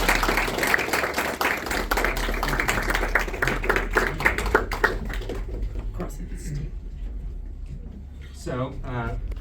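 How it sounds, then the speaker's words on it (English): A room of people at an artists' community circle giving a dense round of applause that carries for several seconds, then thins out and gives way to a voice talking. "So, give another round of applause for everyone."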